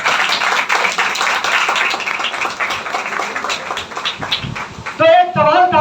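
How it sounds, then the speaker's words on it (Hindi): Loud audience clapping at a Christian teaching session, a dense burst of many hands that fades after about five seconds as a voice resumes speaking. "जोरदार तालियां बजा सकते हैं"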